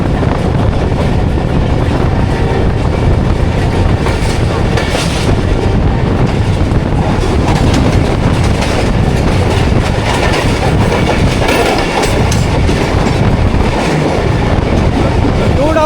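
The Khyber Mail passenger train, 2 Down, rolls past near Drigh Colony Junction with its wheels clattering loudly and continuously over the rails, a dense rumbling roar filling the whole span with rhythmic clickety-clack.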